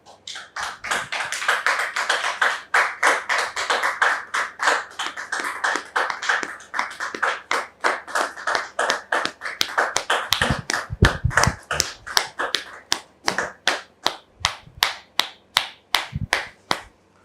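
An audience welcomes a woman called Maman Dorothée with a round of clapping, crisp, closely miked claps that start fast and irregular, then settle into slower, steady rhythmic beats.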